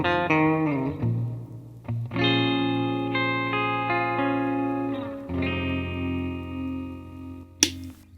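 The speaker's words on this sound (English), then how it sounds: "I'm gonna pop on some reverb for a second." A satin cherry Gibson ES-335 electric guitar played through reverb, ringing chords and sustained notes that decay into a washy tail, loud and close, with a brief bright click near the end and no talk.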